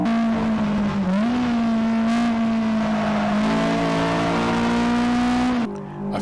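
Honda Civic Type R engine pulls loudly and steadily on a track lap, holding a strong drone that dips, climbs again and then drops off sharply near the end as the throttle lifts.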